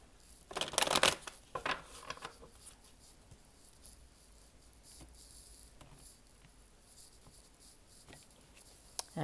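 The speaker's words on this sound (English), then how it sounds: "Okay, we'll do one last shuffle." Oracle cards are shuffled in a burst of quick riffling near the start, followed by softer scattered card taps and light handling in a quiet room.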